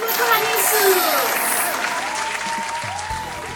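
Children at an online Sunday school worship session clap for Jesus, a burst of applause mixed with voices and background music, strong at first and easing slightly toward the end.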